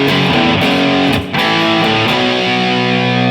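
Heavily distorted electric guitar plays a riff. Thick chords move through a driving rhythm with a short gap partway through, loud and close with no talking.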